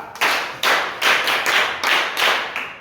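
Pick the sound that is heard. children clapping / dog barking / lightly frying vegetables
children clapping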